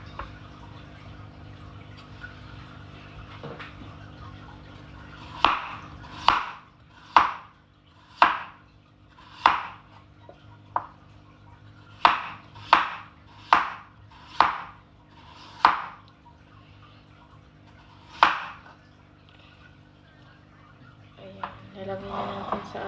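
Mushrooms being sliced on a cutting board while potatoes are prepared for baking: about a dozen crisp knife chops in two quick bursts, close and distinct over a quiet kitchen background.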